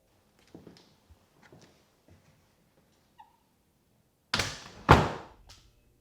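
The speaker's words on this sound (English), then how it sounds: "Close the door, Mr. Rick." A door being shut indoors, heard as two loud, close thuds in quick succession after several faint taps and rustles in an otherwise quiet room.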